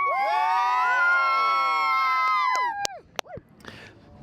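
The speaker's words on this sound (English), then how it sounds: "Give me a big cheer, actually, everyone from Lutterworth" Young under-nine rugby players at a school sevens festival on a rugby pitch roar in a loud, sustained group cheer of high shouts and whoops, breaking off after about three seconds into scattered yells.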